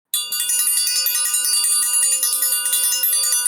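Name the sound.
bell being rung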